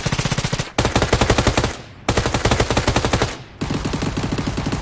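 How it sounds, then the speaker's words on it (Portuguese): Rapid automatic gunfire in PUBG, three long sustained volleys, loud and close, separated by brief gaps. "Um tiro."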